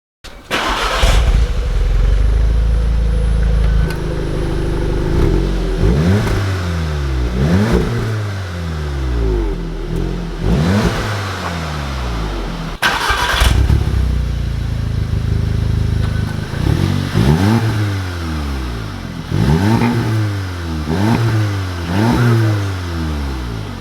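A 2017 Volkswagen Golf R with a CTS resonator delete revs repeatedly, its exhaust climbing and falling in loud, close bursts with burbles on lift-off, about a dozen rev cycles with no talk.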